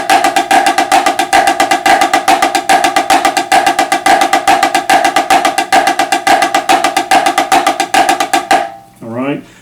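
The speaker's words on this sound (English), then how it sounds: "the combination letter B basically is using the flam accent rudiment in a 16th note pattern" Snare drum playing flam accents in a steady 16th-note pattern, a loud, close, unbroken stream of sharp strokes with regular accents for about nine seconds, then a brief spoken voice.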